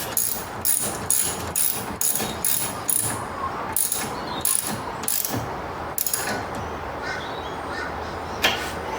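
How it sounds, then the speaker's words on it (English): Bolts being tightened with a hand ratchet, in rapid bursts of sharp metallic clicking that repeat in quick strokes and then trail off into sparser clicks, heard up close with no one talking. "just do them up nice and tight as they were when you took them off"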